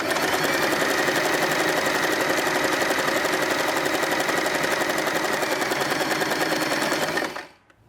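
A sewing machine with a knit needle stitches knit fabric for a bow turban hat, a steady fast mechanical whirring rattle running loud and continuous before stopping abruptly near the end.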